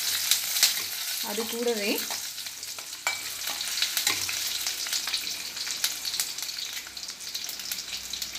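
Ginger and cashews fry in a pan with a continuous crackling sizzle and frequent stirring scrapes, close and fairly loud; a voice speaks briefly over it.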